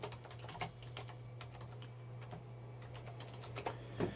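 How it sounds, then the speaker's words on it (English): Typing on a computer keyboard, with quiet irregular key clicks and small bursts spread over a few seconds against a steady low hum. "Now let me just type that in for a minute."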